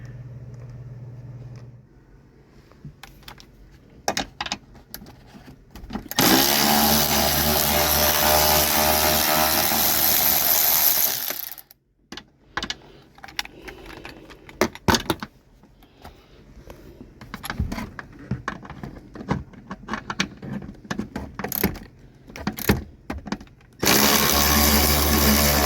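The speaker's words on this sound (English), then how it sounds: "God, I love these battery ratchets and impacts." A cordless battery ratchet whirs in two loud bursts while removing screws from the dash of a 2004 Dodge Dakota, with quieter clicks and handling noises between them.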